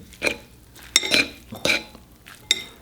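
Mushroom rice being stirred together with sauce in a pot, a few distinct scraping, clinking strokes of a utensil against the pot, close and fairly quiet, with no talking.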